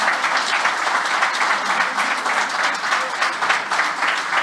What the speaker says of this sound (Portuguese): eu gostaria de antemão pedir a todo mundo mais uma salva de palmas